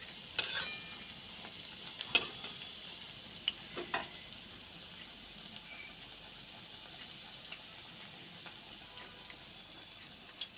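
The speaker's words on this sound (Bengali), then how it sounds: "মিডিয়াম ফ্লেমে থুয়ে আস্তে আস্তে ভাজতে হবে, না হলে পুড়ে যাবে।" Onion fritters (piyaji) frying in oil over a medium flame, a soft steady sizzle with scattered sharp pops and crackles, close and fairly quiet, no voices.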